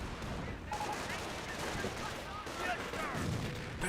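Continuous battle din from Company of Heroes, with dense gunfire and rumbling artillery under steady play, while a voice talks over the fighting throughout.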